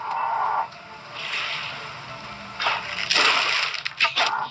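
Watery splashing bursts from water bolt spells striking a player character in the Ashes of Creation video game, several sloshing impacts in quick succession, with a louder cluster near the end, set against game background sound.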